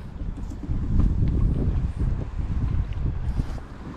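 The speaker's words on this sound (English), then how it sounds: "Wind's freaking blasting me now." On a boat on Cazenovia Lake, wind gusts blast into the microphone, making loud, buffeting low rumbles that rise and fall for several seconds, with no talk.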